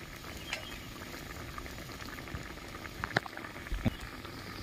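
Raw mangoes boil in a pot for chutney, a steady close bubbling wash with a few sharper pops and ticks near the end and no talking.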